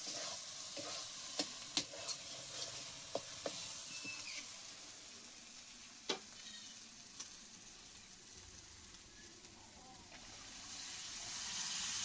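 Mutton pieces frying with spices and tomato paste in a pan, with a soft, steady sizzle and repeated sharp utensil scrapes and clicks as it is stirred, sounding quiet and close.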